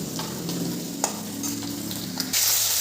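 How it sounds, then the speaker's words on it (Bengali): Cauliflower frying in oil in a pan, a steady close sizzle with a few light stirring clicks, growing brighter and louder toward the end. "ফুলকপিটা ভাজা হয়ে গেল"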